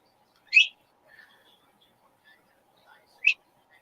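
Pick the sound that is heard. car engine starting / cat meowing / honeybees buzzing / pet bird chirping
pet bird chirping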